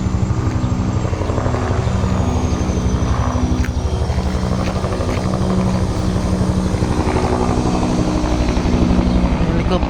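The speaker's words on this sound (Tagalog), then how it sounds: "Helicopter, oh." Helicopter passing overhead near a high-rise condominium and mall construction site in Cainta, Rizal, a steady loud rotor and engine drone holding for the whole stretch with no let-up.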